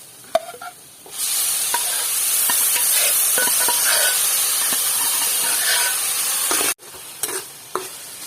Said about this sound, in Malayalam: ഇതിലേക്ക് വേവിച്ച് വെച്ച പപ്പായ ഇതിലേക്ക് ഒഴിച്ചു കൊടുക്കുക